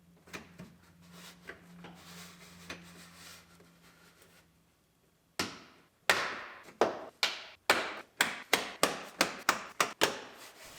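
Plastic bumper trim pieces snapping into place on a 2018 Ford Explorer Limited AWD during a collision rebuild: a quiet, muffled stretch of handling, then a rapid run of about a dozen sharp, loud clicks and knocks close by.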